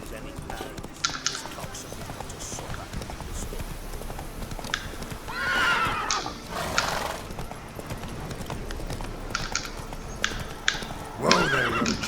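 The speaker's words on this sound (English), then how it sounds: "Whoa there, Roach." Hooves clip-clop on the ground as a horse gallops in The Witcher 3, with whinnies and neighs bursting out near the middle and again at the end, while a voice talks over it.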